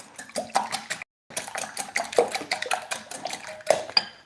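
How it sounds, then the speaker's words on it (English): An egg is beaten with a whisk in a bowl, producing rapid, rhythmic wet clinking strokes close by, with a brief pause partway through before the steady whisking resumes. "So I'm just going to beat the egg."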